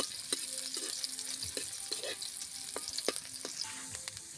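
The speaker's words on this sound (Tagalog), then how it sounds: "magigisa na tayo. Luya. Bawang, sabay na natin yan. At sili." Ginger, garlic and chili sautéing in a pan, a soft, faint sizzle with scattered clinks and stirring scrapes of a utensil, close by, with no one speaking.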